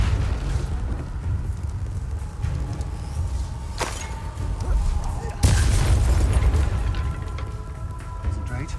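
Confringo fire spells exploding in the video game Hogwarts Legacy, two sharp blasts a second or so apart, with rumbling combat noise and low game sounds continuing between and after them.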